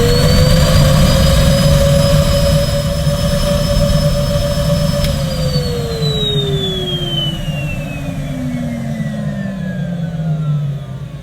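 Numatic vacuum cleaner running steadily during a suction test, a loud continuous motor whine that holds pitch, then drops and slowly winds down over several seconds, with no talk.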